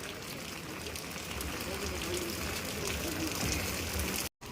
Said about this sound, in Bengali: এখানে আবার সেই মুসলধারে বৃষ্টি আরম্ভ হয়ে গেছে